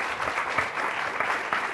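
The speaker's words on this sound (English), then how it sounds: "Can we have some applause for them?" Audience at a New York Times panel on Christine Quinn's NYC mayoral race clapping in a brief, dense, even burst of applause, moderately loud with no voices over it.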